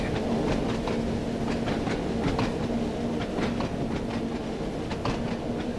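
An Isle of Wight passenger train in Train Sim World 2, running between Ryde Pier Head and Shanklin, rumbles steadily with a rhythmic clickety-clack of wheels over rail joints and a faint hum, with no talk.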